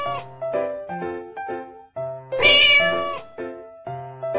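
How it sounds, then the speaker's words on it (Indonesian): A cartoon cat meows repeatedly and clearly, a string of drawn-out, tonal calls with one louder, longer meow in the middle, alone without talk. "Kucing."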